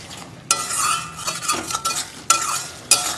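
Paste of ground cashew, poppy seed and mustard being fried and stirred in hot oil for Bengali pabda fish curry: a steady sizzle with repeated sharp scraping strokes of a spatula against the pan, close and clear.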